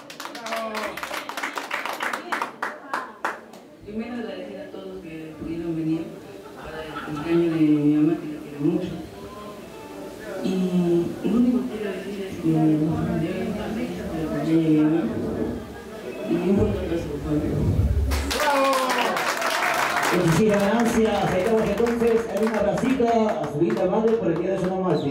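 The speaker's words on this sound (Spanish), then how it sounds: "que recibimos un fuerte aplauso." Applause from the crowd at a 50th birthday celebration, a sustained patter of clapping that swells late in the clip, mixed with a host's amplified talk and background music.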